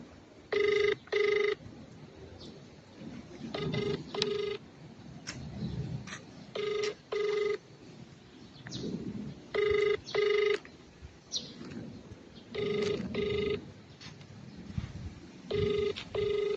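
A phone call goes unanswered: regular double-pulse ring tones repeat about every three seconds, faint and steady over quiet outdoor background noise, with no one picking up.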